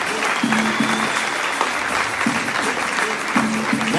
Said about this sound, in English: How about one big round of applause for all of our gentlemen in our arena tonight?